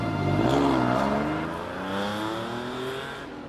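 A TVR Sagaris exhaust roars close and loud, the engine note rising and falling through revs in a brief, throaty burst.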